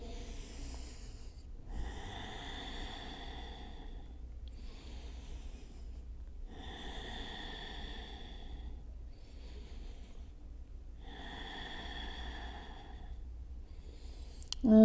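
Slow, deep breaths during a hip-opening yoga stretch, three long exhalations evenly spaced and close to the mic over a soft steady background hum, with no talking.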